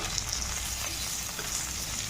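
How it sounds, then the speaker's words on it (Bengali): Tomato pieces sizzle steadily in a hot pan for a vegetarian pumpkin dish, a continuous close hiss of frying oil with faint stirring and no voices. "তো আমি টমেটোটা দিয়ে দিচ্ছি। টমেটোটা হালকা ভাপিয়ে নেব।"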